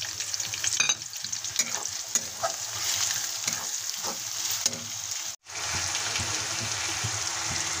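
Onion and green chilli frying with cumin and garlic-ginger paste for a village-style chicken curry, a constant crackling sizzle with stirring scrapes that cuts out for a moment and then resumes.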